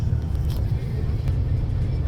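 A 1992 Ford Mustang GT Fox Body with a 5.0L V8 rolls along with a steady, heavy low rumble and road noise from inside the cabin, the engine droning evenly without clear revs.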